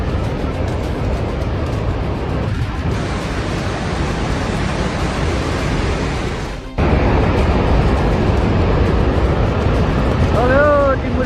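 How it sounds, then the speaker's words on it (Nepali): Flood water rushing near Timure Bazaar in Nepal during a glacial-lake flash flood, a loud, unbroken roar of churning water that swells after a brief dip, with a faint voice near the end. "टिमुरे बजार नजिक पानी आएर खतम बनाए"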